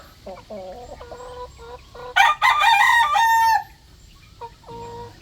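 Chickens cluck and call close by, then a rooster crows loudly for about a second and a half, with more clucking afterward.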